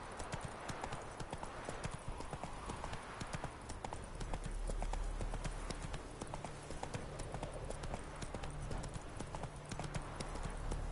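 Horse hooves clip-clop steadily and continuously in The Witcher 3 video game, a brisk, even walking rhythm that stays close and fairly loud throughout.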